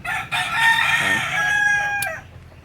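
A rooster crows loudly and close in a backyard chicken coop on a muddy day after rain, one long drawn-out call over a low background of other fowl.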